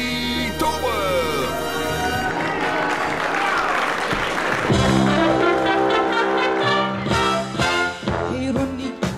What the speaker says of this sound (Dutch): Graag een hartelijk applaus voor Siska Peters en Ronnie Tober.